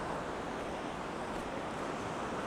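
Waves crash steadily on a Lake Michigan beach in winter, blending with strong wind in a constant, dense roar that runs without a break.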